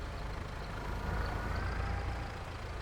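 A tractor engine idling in Court Farms Country Park on the Farming Simulator map, a steady low rumbling drone with slight fluctuations throughout and no talk.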